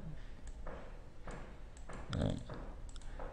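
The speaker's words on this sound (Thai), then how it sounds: "เราก็มาคลิกที่ฟังก์ชันนี้นะครับ" Computer mouse clicks while working in Excel sound as a few short, sharp taps spaced irregularly, close by, with brief bits of a man's speech between them.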